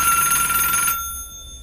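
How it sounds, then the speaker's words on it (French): A telephone rings with one short, shrill electronic burst of steady tones lasting under a second, then cuts off into quiet room tone. "nous allons attendre que ce téléphone sonne"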